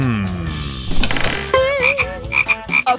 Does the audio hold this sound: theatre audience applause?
no